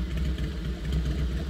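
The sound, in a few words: loud motorcycle passing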